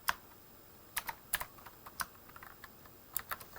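Typing code on a computer keyboard, PowerShell scripting: crisp, close key clicks in irregular clusters with brief pauses, fairly faint overall and with no voice over them.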